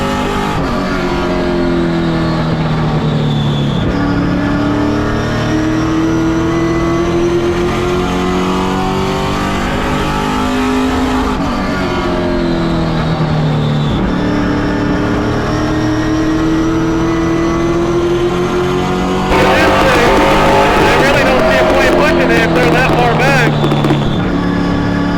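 Race cars at the CARS Tour West season finale roar past the start-finish line, their loud engine notes rising and falling as they pass close by, with a brighter burst of engine noise near the end, under constant commentary.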